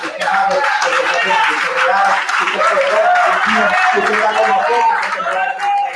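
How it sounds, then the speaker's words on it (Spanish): A church congregation in a Colombian Christian gathering claps together in a loud, dense burst of applause that holds steady for several seconds, with voices mixed in. "Por eso le damos glorioso aplauso en esta mañana."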